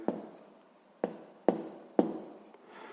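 A pen writes down a math answer on paper in four or five short, distinct strokes about half a second apart, close and quiet, with no talking.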